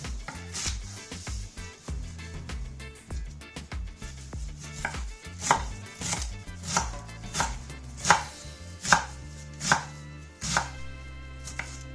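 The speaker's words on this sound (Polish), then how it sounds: "Na koniec siekam lubczyk wraz z łodygami." A knife chops fresh lovage with its stems on a cutting board in quick, repeated knocks that speed into a dense rhythm and then space out into sharper, louder strokes, close and clear with no talk.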